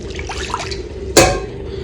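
Water poured into a cooking pot to rinse out leftover masala, heard as a short close splash and pour that follows a faint trickle, with no talk.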